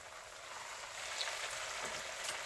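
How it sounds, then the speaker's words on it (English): Hot water cornbread patties fry in a skillet of oil, producing a steady soft sizzle and crackle that holds evenly throughout, close but fairly quiet. "you're going to fry them till they're golden brown on each side."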